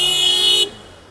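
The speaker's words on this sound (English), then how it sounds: "Somebody beeping their horn there." A single sustained car horn blares close by in road traffic near a roundabout, cutting off abruptly and leaving a low traffic hum.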